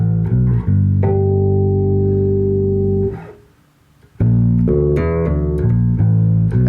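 Notes on an MTD Saratoga Deluxe bass guitar, including a hammer-on and pull-off, with a long sustained note fading into a short near-silence before a quicker run of plucked notes resumes, loud and close.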